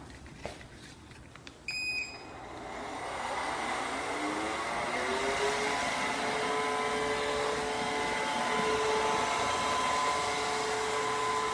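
Ecovacs Deebot N78 robotic vacuum cleaner starts with a couple of clicks and beeps, then spins up into a steady whirring hum with a rising motor tone that holds for the rest of the span.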